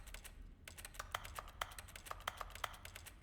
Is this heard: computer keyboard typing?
yes